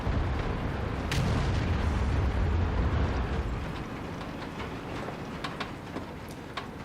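A tank gun fires in World of Tanks: a heavy, rumbling blast that rolls on for a few seconds, then fades into quieter ambient clatter, loud and close.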